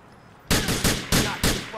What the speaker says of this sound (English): I'm going to aim up and get a headshot on that guy.